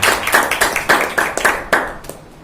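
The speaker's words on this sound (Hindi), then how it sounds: "एक जोर से ताली हो जाए" Church congregation clapping hands together at a Sunday morning worship service, a fast run of sharp claps in an uneven rhythm that fades out over a couple of seconds, with no talk.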